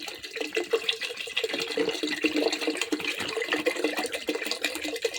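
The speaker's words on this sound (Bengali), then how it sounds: "এবার এই জলটা দিয়ে দেবো জলটা দিয়ে দিলাম আর একটু জল লাগবে পরিমাণ মতো জলটা দিয়ে দিচ্ছি" Water poured steadily into a cooking pot, a continuous splashing trickle heard up close for the whole stretch with no talking over it.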